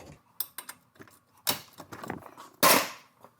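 A small swivel-head impact gun works on the rear brake caliper bolts of a 2014 Subaru Outback, firing short, sharp rattling bursts with clicks and pauses between them, fairly close.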